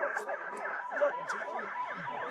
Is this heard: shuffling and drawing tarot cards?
no